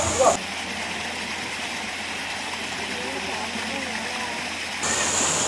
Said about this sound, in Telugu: చిన్న వాటర్ ఫాల్ కూడా ఉంది, ఒరిజినల్ గా వాటర్ ఫాల్.